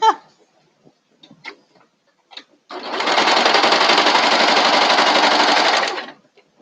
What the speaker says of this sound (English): I'm about to start sewing